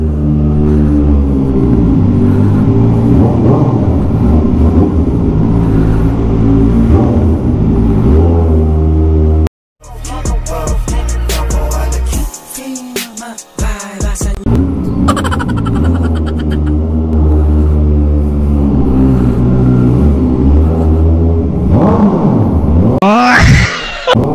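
A Kawasaki ZX-4RR sport motorcycle engine revs hard and loud in a tunnel, roaring and rising in pitch with reverberant echo, broken by a short gap of sharp throttle blips.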